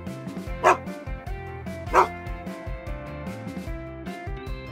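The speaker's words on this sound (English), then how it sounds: "Dog." A dog barks twice in sharp, spaced yips at close range, with softer whimpering tones in between.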